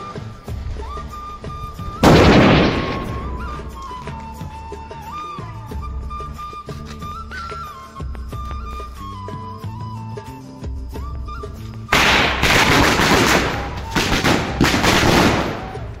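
Diwali firecrackers burst in sharp loud cracks and rapid crackling volleys, with a big blast early on and dense fizzing bursts later, over a background of continuous tones and distant pops.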